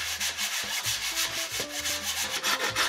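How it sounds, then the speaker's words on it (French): Edges of a fibreglass cowling mould for a radio-controlled model aircraft are sanded by hand. Steady, close, raspy rubbing strokes repeat in a quick rhythm with no talking. "On ponce bien les bords."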